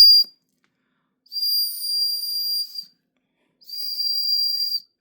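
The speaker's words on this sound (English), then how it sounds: "The whistle that's built into the handle." A whistle built into a knife handle is blown twice, giving two clear, piercing, steady high-pitched blasts of a couple of seconds each, separated by silence.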